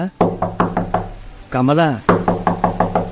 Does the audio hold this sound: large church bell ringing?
no